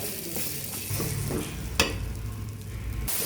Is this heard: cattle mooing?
no